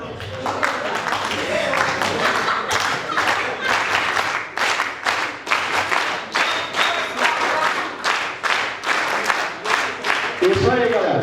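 An audience claps in a steady rhythmic beat for a dancer at a show, many hands striking together in loud, even pulses that continue throughout with crowd noise underneath.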